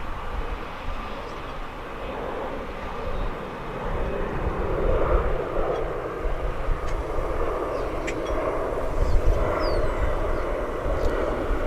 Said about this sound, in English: We've still got that Delta flight at the southern end of the runway.